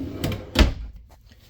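Full extension drawer in a 2017 Keystone Fuzion 414 RV, sliding with two close, fairly loud knocks about a third of a second apart, then quiet.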